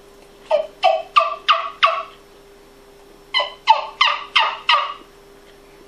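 A turkey call made from turkey bone imitates a gobble: two quick bursts of five sharp, clucking yelps each, with a pause between them, close and clear over a faint steady hum.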